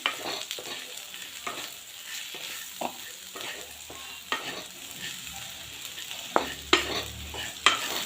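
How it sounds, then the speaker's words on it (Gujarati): Sprouted moong and semolina roast in a pan with a soft, quiet sizzle, punctuated by repeated scraping stirs of a spoon that land as sharp irregular clicks and swishes every second or so. "ફણગાયેલા મગ નાખતા છે સોજી પણ સાથે જ નાખી દેવાની છે સોજીમાં બધું શેકી લેશું"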